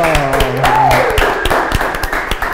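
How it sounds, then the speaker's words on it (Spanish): Audience applause at a live stage event, a dense burst of clapping over a held musical tone, loud and close, thinning out toward the end. "Un fuerte aplauso."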